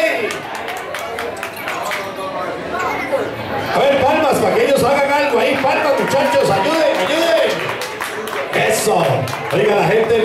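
An audience at a bingo hall karaoke event claps in quick, uneven rhythm amid loud crowd chatter, with people talking and a lively, noisy room atmosphere throughout.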